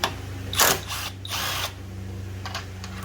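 A power driver with a T30 or T35 Torx bit whirs briefly in short bursts while removing fuel tank bolts on a 2012 BMW S1000RR, close by with a faint mechanical hum beneath.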